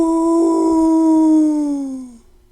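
A human voice imitates a dog's howl as a metal vocal exercise, one sustained, steady tonal note held for about two seconds before trailing off, loud and close.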